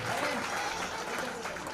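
Dense, steady applause from a crowd welcoming a guest at a Bihar Police constable selection honour ceremony in Gopalganj, a short continuous burst of clapping.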